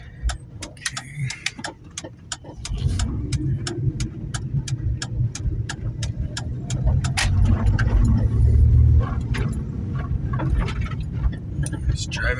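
A lifted Jeep Liberty KJ on a test drive after long storage, its engine rumble building and holding steady beneath a regular, sharp ticking that repeats throughout.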